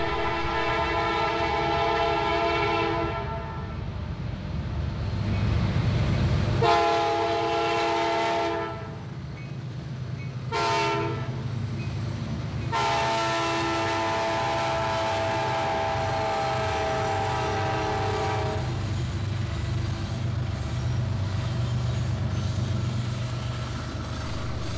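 Freight train led by an SD70 locomotive hauling loaded grain cars, with loud sustained horn blasts sounding in several bursts over the steady rumble of the engine and rolling cars.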